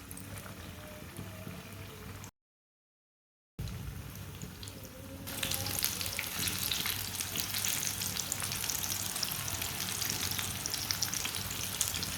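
A spoonful of batter for a winter breakfast dish hits well-heated oil and bursts into a loud, steady sizzle that swells after a brief cut and keeps crackling without a break.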